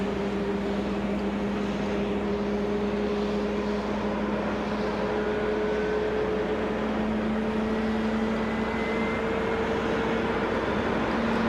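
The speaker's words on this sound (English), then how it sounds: "Alright, so that engine is going." An airliner engine runs in Flight Simulator X on a Los Angeles to Shanghai flight, a steady, unbroken drone with a sustained tonal hum that holds level throughout with no talking.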